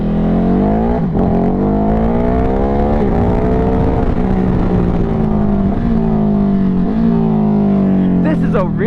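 A Ducati Hypermotard 950 SP motorcycle engine drones steadily while being ridden, its pitch rising and falling through gear changes with brief dips between pulls, loud and close throughout with wind rush underneath.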